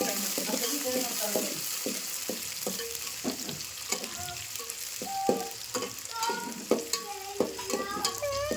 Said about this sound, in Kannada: ಚಂದ ಫ್ರೈ ಮಾಡಿ ಗೋಲ್ಡನ್ ಕಲರ್ ಉಳ್ಳಾಗಡ್ಡಿ ಗೋಲ್ಡನ್ ಕಲರ್ ಆ ರೀತಿ